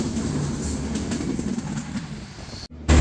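Shagardari Express passenger train rolls along the rails near Darshana Halt station, a continuous rumbling clatter of wheels with faint squeal, steady and fairly close, dropping out briefly near the end.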